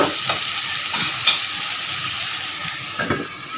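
Chicken meat fries in a pan for an Assamese chicken curry, giving a steady, close sizzle broken by a few scraping stirs.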